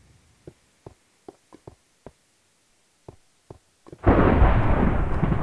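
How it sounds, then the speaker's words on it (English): Thunder from lightning in the Minecraft video game: a series of short, sharp cracks and pops spaced irregularly, then a loud sustained rumbling roar that fills the last second and a half. "Damn, that lightning is annoying."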